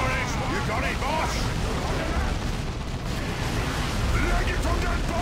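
A bomb goes off in Warhammer 40K Dawn of War II: Retribution, a sustained low rumbling blast amid constant battle noise. Voices talk over it the whole time.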